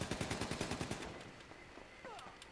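Rapid automatic gunfire in the GTA 5 video game during a zombie roleplay, a fast burst of evenly spaced shots followed by scattered fainter shots and distant game noise, with no talk.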